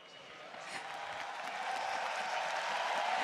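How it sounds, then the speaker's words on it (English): Crowd applause and cheering at the LoL All-Stars 2016 esports event in Barcelona swells steadily louder, a dense wash of clapping in a large venue, with a voice speaking over it. "Cheering for the analyst desk."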